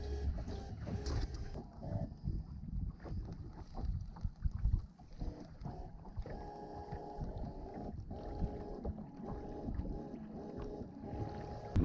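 Sailboat sailing wing on wing under a DIY Arduino autopilot, with continuous water rush and wind buffeting the microphone, plus faint creaks and knocks of the boat moving on the swell.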